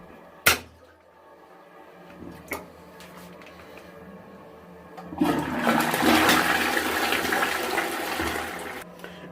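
A PowerFix pump action drain unblocker working water in a toilet: a couple of sharp clicks, then a loud swelling gush and slosh of water that carries on to the end, with no voices.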